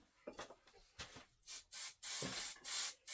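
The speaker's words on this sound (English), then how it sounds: "So I'm going to give that a shot of spray" A spray bottle hisses in several short, sharp bursts, close by, after some quieter rubbing and handling noises, spraying embroidery work on a freestanding gingerbread village bridge.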